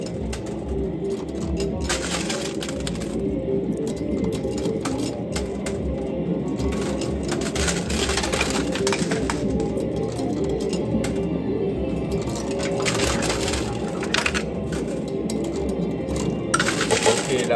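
A coin pusher arcade machine hums and clatters continuously as coins are shoved forward and drop, with steady metallic jingling and clinks in a busy arcade. Faint background noise carries throughout.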